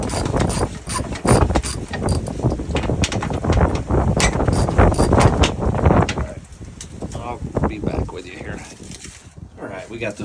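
Ratcheting wrench loosening bolts on a Pentair MasterTemp pool heater during a bypass assembly replacement, with repeated close mechanical clicks and metallic clatter throughout, and someone talking over the work.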